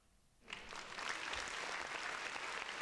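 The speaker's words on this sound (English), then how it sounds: "Hit that clap button." A crowd applause sound effect bursts in after a brief quiet and continues as dense, steady clapping to the end.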